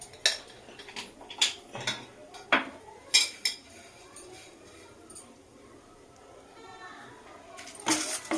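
Dry vermicelli (shemai) is stirred in a pan, with repeated metallic scrapes and clanks of a utensil against the pan at an irregular rhythm, fairly close, while a person talks between strokes.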